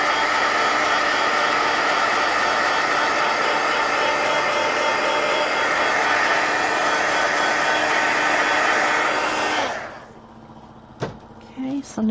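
Hair dryer blowing on wet coloring, a loud steady whoosh that runs for about ten seconds before switching off, followed by a few faint knocks in the quiet.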